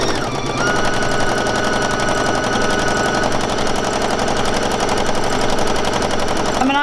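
A sewing machine stitches on dissolvable fabric in a rapid, even mechanical chatter that runs steadily and close up for the whole stretch, with no talking over it.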